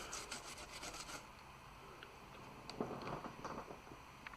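Someone scrubs old thermal paste off a laptop GPU with quick, faint rubbing and rasping strokes, with a few light taps partway through.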